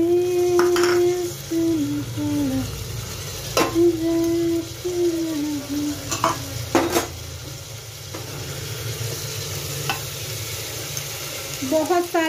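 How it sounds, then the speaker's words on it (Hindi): Rice cooking with lots of vegetables in a pan, sizzling and frying steadily while a utensil stirs and scrapes against the metal, close and fairly loud, with occasional clinks. "बहुत सारी वेजिटेबल के साथ मैं चावल बना रही हूँ"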